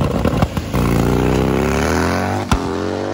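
A Harley drag racing motorcycle on a failed run sounds close and loud: a rough, sputtering engine note steadies into a sustained, slowly rising drone, broken by a sharp clank near the end.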